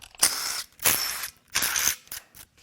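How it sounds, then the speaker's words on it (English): A ratchet wrench cracks loose cylinder head bolts on the 3.0 engine of a 2022 Audi S5. Three loud, close bursts of rapid clicking are separated by short pauses, then a fainter fourth. "Time to crack the other head bolts loose."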